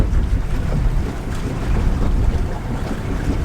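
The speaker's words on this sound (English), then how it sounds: "Are you driving us out of the anchorage?" A sailboat motors out of an anchorage at Bahia Tenacatita, heard as a steady low rumble of engine and water wash buried under constant heavy wind buffeting on the microphone, with no voices.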